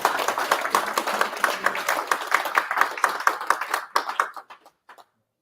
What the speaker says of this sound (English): Well, let's clap first.